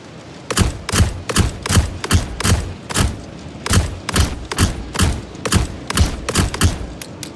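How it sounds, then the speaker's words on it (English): Rapid bursts of gunfire aimed at a ship in the video game Star Citizen, loud and close, firing in short clustered volleys with brief pauses between bursts and no talking. "it's fun shooting a ship, I guess"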